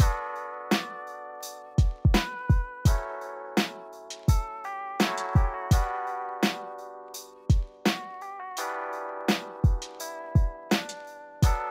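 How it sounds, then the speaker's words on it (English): A lofi beat programmed in FL Studio, with punchy kick drums and crisp hi-hats in a loose, repeating pattern over mellow sustained keys. It plays alone and up close, with no voices. "So we got the simple drums down here"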